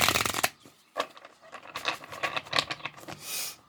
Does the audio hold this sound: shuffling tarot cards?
yes